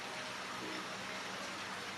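Rain falls outside as a faint, steady wash of broadband patter, soft and distant, with no one speaking.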